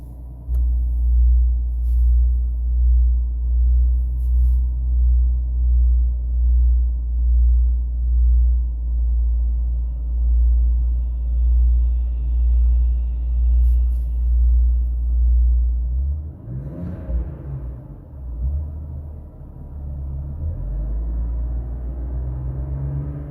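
A 2025 Ram 1500 with the HO Hurricane inline-six is started and left idling, a low throbbing rumble before a brief rough surge at startup that then settles into a steady idle, with no talk.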